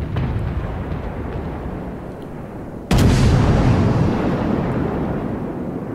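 Naval gunfire from a Jackal-class ship in a World of Warships Halloween 2018 battle: a sudden heavy boom at about three seconds that lingers as a dense rumble over steady low background roar.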